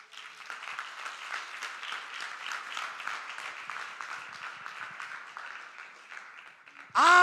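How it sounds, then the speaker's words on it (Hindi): A church congregation at Dayasagar Prarthana Bhawan in Sambalpur claps together in steady, moderately distant applause for about seven seconds, ending with a sudden louder sound. "क्या आपने प्रभु यीशु के लिए एक ताली भी न मारेंगे?"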